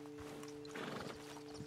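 Horses in the video game Red Dead Redemption 2, with quiet hoof clops and a snort over a steady ambient hum, brief and fairly distant.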